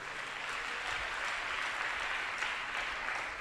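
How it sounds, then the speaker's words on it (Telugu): A church congregation claps together, a steady, fairly quiet wash of many hands that holds evenly throughout. "కొట్టు చప్పట్లు ఒకసారి"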